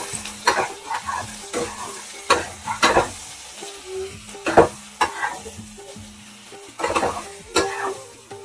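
Spice masala with turmeric and salt stirred and fried in oil, with steady close sizzling under repeated scraping strokes of a spoon against the pan.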